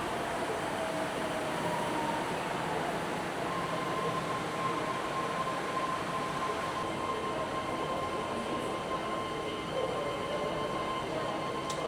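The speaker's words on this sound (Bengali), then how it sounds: "এইটা ওই দিককার ট্রেন, আমাদের ট্রেন এদিকে আসবে" A monorail train at a station in China gives a steady, continuous rumble with a faint high whine running through it, loud and even throughout.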